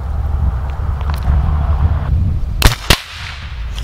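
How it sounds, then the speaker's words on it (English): Impact-sensitive exploding firecracker rounds fired from a gun at a target, two sharp loud bangs close together near the end over steady outdoor background rumble. "they're impact sensitive, so when they hit a target, they blow up"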